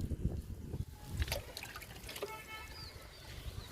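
A thin stream of liquid fertilizer trickles and dribbles onto a potted Texas flowering plant, a faint, steady pour that runs for a few seconds with small splashes and no talking.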